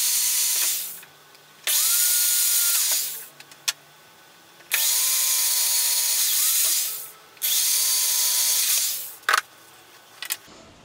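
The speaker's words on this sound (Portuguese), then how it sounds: "Eu vou furar primeiro essas aqui, pra gente poder fixar em cima" A power drill bores holes for a handmade house-shaped key holder in three long, loud, steady whirring bursts, each spinning up and winding down, with short clicks and quiet gaps between and no talking.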